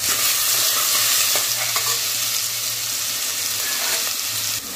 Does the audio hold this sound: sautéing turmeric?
yes